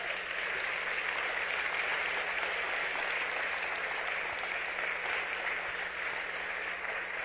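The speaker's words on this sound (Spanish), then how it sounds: "Den un aplauso fuerte al Señor." A church congregation applauds, producing steady, dense clapping that holds at an even level throughout, heard without any voices over it.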